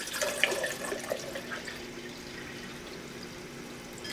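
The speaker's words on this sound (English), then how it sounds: "So here is 32 ounces in this Gatorade bottle of room temperature water. We'll just pour that in there." Room-temperature water, 32 ounces, poured from a Gatorade bottle into a backpacking stove pot, a faint, steady splashing trickle that settles into a soft continuous flow.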